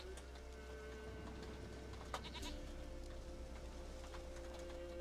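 A goat in The Witcher 3 gives faint, wavering bleats over a steady low game hum with soft ambient tones, and a brief sharp knock sounds midway.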